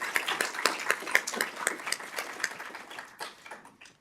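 Scattered applause from a small crowd in city council chambers, a few minutes' worth compressed into several seconds of close, uneven hand claps that thin out and fade.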